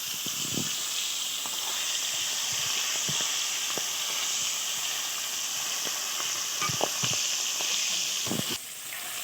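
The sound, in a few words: frying pangas fish in its own oil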